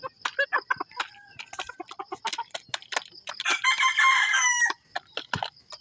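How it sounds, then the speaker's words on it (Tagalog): Several chickens clucking and a rooster crowing loudly at close range on a farm, with busy overlapping calls from the flock. "Madaming manok dito."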